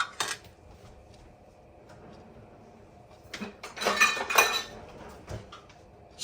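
Kitchen utensils clatter and clink as someone rummages for a silicone heat-proof spatula while cooking a lobster pan roast; brief soft knocks lead to a louder burst of metallic rattling near the middle, then a final clink.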